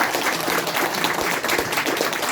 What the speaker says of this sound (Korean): 저기 큰 박수 한번 보내주세요.